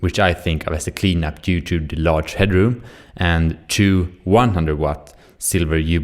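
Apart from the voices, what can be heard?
No everyday noise stands out behind the speech.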